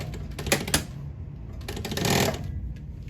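A sewing machine stitches a zipper onto a synthetic pencil case in short mechanical bursts of whirring and clatter, with brief pauses between runs.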